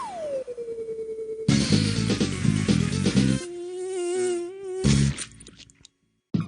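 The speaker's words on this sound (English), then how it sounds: "I think it's about time to take care of those pesky insects." Buzzing insects from the You Don't Know Jack trivia video game, a whining flylike drone with wavering pitch layered over busy game music and sound effects, fairly loud and continuous before cutting out.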